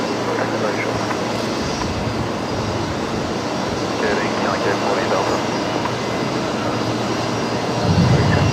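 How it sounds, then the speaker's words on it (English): A Qatar Airways airliner lands on the far parallel runway at Brisbane Airport, giving a continuous, distant jet roar that swells slightly toward the end, with voices talking over it. "Qatari confirmed coming in on the new parallel runway on the other side of the field."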